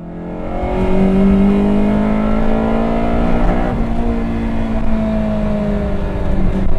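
Toyota AE86 with a swapped Honda F20C engine revs hard and accelerates, its loud, rising engine note climbing steadily with brief shifts, heard from inside the car with no talking.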